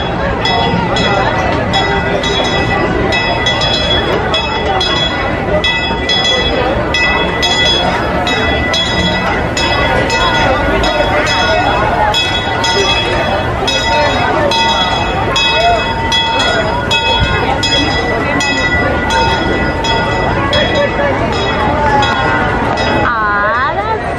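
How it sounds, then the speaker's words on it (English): The Main Street steam train at Disneyland arrives with its bell clanging repeatedly over a busy, loud crowd, with excited voices talking close by throughout. "Here comes the train!"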